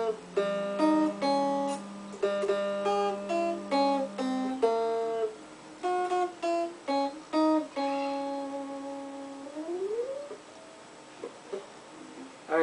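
Happy Birthday melody picked on a guitar as a string of single plucked notes, each ringing and decaying, played alone and fairly close, ending with a sliding note and sparse last tones.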